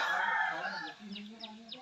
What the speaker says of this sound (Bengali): মুরগির ডাক, পাখির ডাক,